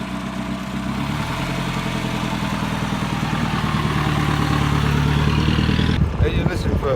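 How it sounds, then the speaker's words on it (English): A 1930 4.5-litre Bentley Tourer engine runs at a steady, throbbing idle with mechanical clatter, close and loud, before the tone abruptly shifts near the end. "You're listening for engine tone to make sure that the engine is running as best as we can get it."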